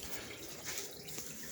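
A canister filter pushes water across the top of a 40-gallon breeder aquarium, giving a soft, steady splashing trickle, fairly quiet and alone.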